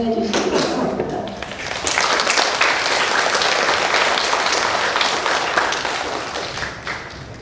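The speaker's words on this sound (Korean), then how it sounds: "이동현 목사님 나오실 때 큰 박수로 환영해 주시기 바랍니다." A church congregation claps loudly to welcome the pastor to the front, with the applause swelling after a second and holding as a dense, steady patter before tapering off, mixed with a few thumps.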